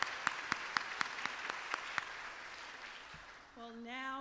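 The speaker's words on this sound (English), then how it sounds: "Let's give them all a round of applause and tell them thank you for what they're doing tonight." An audience at a mayoral forum applauds with crisp, evenly paced claps that fade over a few seconds, and then a voice begins speaking.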